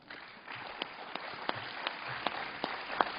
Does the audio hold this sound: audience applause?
yes